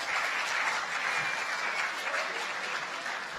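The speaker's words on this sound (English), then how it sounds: "When would the first applause break out?" Audience applause at a fall new student orientation fills the room, a steady, dense wash of many hands clapping at once, sustained without a break from start to finish.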